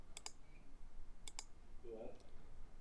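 Two quick computer mouse clicks, spaced about a second apart, on a 3D graphing calculator plotting a space curve, faint and close over a quiet background hum.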